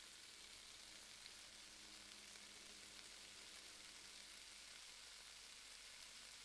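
Food frying in a pan gives a steady, continuous sizzle with a bright crackling hiss, close up and even in level throughout, with no talking.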